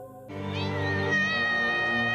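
A cat gives one drawn-out, wavering meow that rises and holds for nearly two seconds, loud and close, after a brief quieter lead-in.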